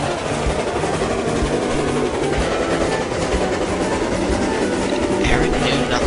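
Steam train rolling over rail points, a steady loud rumble with rhythmic clickety-clack from the wheels and a faint squeal near the end.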